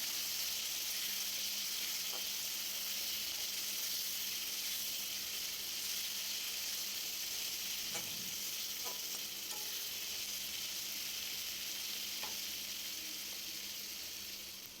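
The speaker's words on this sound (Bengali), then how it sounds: "সব মশলাগুলো আমি এর মধ্যে দিয়ে কষিয়ে নেব ভালো করে" Ground coriander, Kashmiri chilli, cumin and turmeric frying in oil in a pan for a pomfret fish curry, giving a steady, close sizzle and hiss with occasional stirring scrapes.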